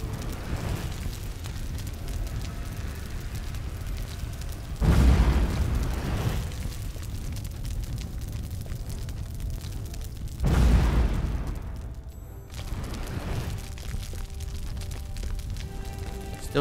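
Wood stores being destroyed in the video game LOTRO (Lord of the Rings Online), with two loud, booming burst-like impacts, each trailing off over about a second, over a constant low game ambience with no talk.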